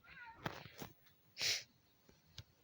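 A short cat meow in a video game rises sharply amid a few soft taps and clicks in an otherwise quiet setting.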